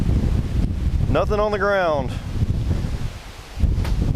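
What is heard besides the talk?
wind outdoors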